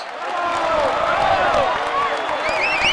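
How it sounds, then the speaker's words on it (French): A roadside crowd at a Tour de France stage applauds and cheers a rider in the green jersey: a loud, continuous wash of clapping and voices with shrill whistles rising near the end. "Allez, on l'applaudit encore."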